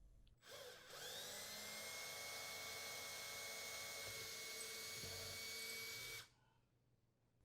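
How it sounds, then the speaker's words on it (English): A power drill with a 1/8 inch bit bores mounting holes for a gas range anti-tip bracket, whining steadily for about six seconds before cutting off, alone in a quiet room. "Using a 1/8 inch diameter drill bit, drill the holes where marked."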